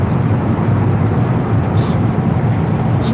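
A Tesla car passes on the road, a steady broadband rush of tire and road noise holding loud and near throughout with no distinct engine tone.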